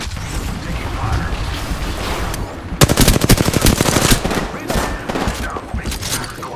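Rapid automatic gunfire bursts from the Apex Legends video game, loud and close, with sustained rattling volleys over continuous game sound and brief spoken lines.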